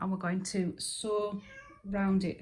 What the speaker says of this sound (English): That's my cat wanting fed.